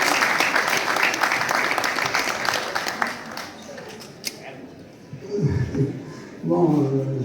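An audience applauding at an event in Casablanca: dense close clapping for about four seconds that thins into scattered claps, with voices speaking over the tail end.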